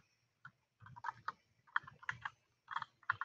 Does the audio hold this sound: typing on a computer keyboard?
yes